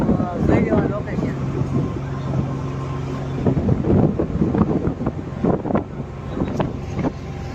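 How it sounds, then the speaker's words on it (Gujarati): A RoRo ferry's engine hums steadily as the boat slowly gets under way at sea, a low constant drone mixed with wind buffeting the microphone, while people talk over it. "આનો એન્જિનનો અવાજ વધારે આવતો હોય છે"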